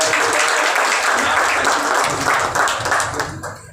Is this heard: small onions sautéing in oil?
no